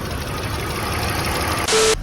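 A BMW E46 engine that sat unused for three years runs steadily with a close, droning hum, then a brief louder, brighter burst near the end.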